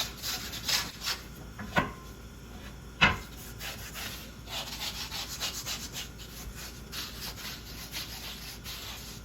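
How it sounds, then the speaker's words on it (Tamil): Butter is rubbed across a heated pan for French toast, giving soft, close scraping and rubbing strokes with a few sharper knocks, quiet and continuous with no talking. "இப்போது இதில் நாம் இந்த பட்டரை தேய்ச்சிக்கலாம்"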